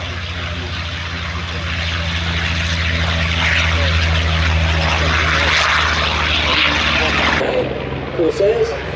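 Corsair propeller aircraft at a flying display, a loud, throbbing piston-engine drone with steady low harmonics that swells as it passes, then cuts off sharply near the end, leaving a brief noisy tail.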